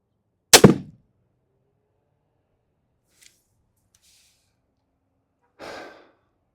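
Crossbow fired while sighting in a scope, one sharp, loud release snap near the start, followed by long quiet and a later softer rustling thud.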